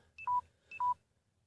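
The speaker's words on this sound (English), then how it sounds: "that's my phone beeping." Two short electronic phone beeps, each a quick pair of tones, about half a second apart, clear and close, then quiet.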